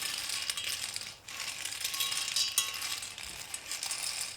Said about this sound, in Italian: È un insolito rumore per una pasta cucinata all'italiana